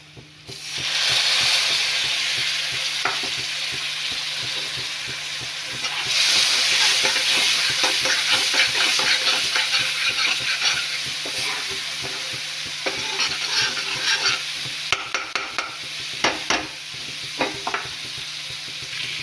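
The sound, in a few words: spice paste frying for rohu fish curry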